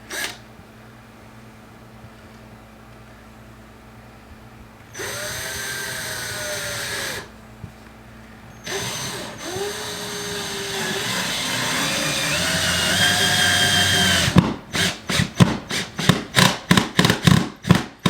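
A power drill drives screws into drywall during a hole repair, with whirring bursts that start and stop and pitch changing under load, then a run of rapid rhythmic ratcheting pulses at the end.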